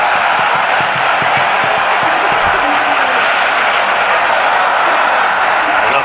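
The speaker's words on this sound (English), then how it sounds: "Noise in the crowd, mainly at the moment coming from the Indonesians" Indonesian fans roar at a football match against Singapore in the AFF Cup, a loud, continuous wall of crowd noise with drumming-like thuds and shouts throughout.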